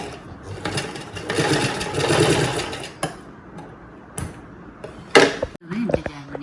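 A sewing machine stitches a saree frill for an anarkali dress in bursts of rapid mechanical whirring, broken by short pauses, sharp clicks and handling clatter up close.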